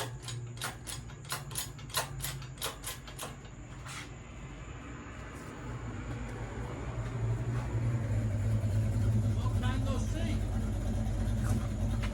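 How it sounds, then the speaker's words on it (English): A very loud Oldsmobile 442 rumbles past outside an open garage, its low engine roar building and holding strong after some rapid mechanical ticking from work nearby. "that was my buddy with a very loud Oldsmobile 442"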